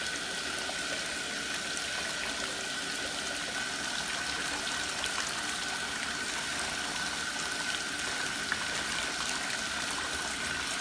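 Hot water runs steadily from a tap into a bath, a continuous close hiss and trickle with a constant tone and no pauses or talk.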